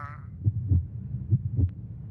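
A heartbeat sound effect from an animated horror story about a pizza delivery: low, muffled thumps in a steady lub-dub rhythm, roughly two paired beats, close and alone after a brief tonal swell at the start.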